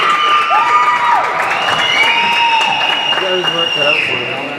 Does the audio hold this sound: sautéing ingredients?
no